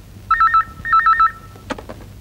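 A telephone rings in two clear electronic trilling bursts, loud and close, followed by a brief clatter as the handset is picked up.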